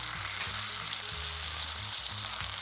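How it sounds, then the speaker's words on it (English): Teriyaki steak pan frying over medium-low heat: a steady, close sizzle of fat and sauce crackling in the pan, continuous and alone with no voices. "Reduce the heat to medium-low and continue to pan fry 5 minutes"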